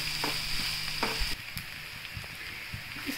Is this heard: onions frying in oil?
yes